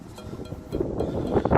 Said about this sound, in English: Sorry for the wind, guys. It's a little bit windy out here.